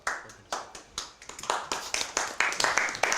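A small class claps for their teachers, with sparse individual hand claps at uneven intervals, a handful of people clapping close by with no talking.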